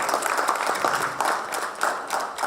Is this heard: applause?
yes